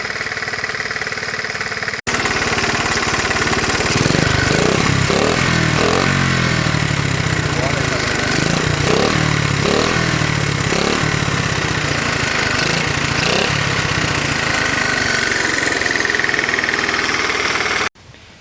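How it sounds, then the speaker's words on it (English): A 1984 Honda Z50R minibike engine idles steadily up close, its small single-cylinder putter repeating evenly beneath a mechanical cam chain rattle, with a cut at the start and an abrupt stop near the end. "it's been idling for like a half an hour, and the cam chain noise seems to have lessened quite a bit"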